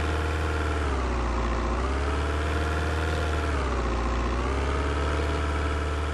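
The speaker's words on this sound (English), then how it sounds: "The engine of the car is so loud." A car engine drones loudly and steadily from inside the cabin in the video game Vein, a continuous low hum with slow rises and dips in pitch and no talking.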